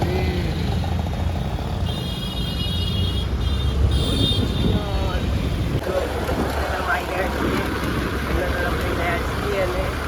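Town street traffic passing close by, with engines rumbling, a brief high tonal whine and wind noise on the microphone, while people talk over the continuous road noise.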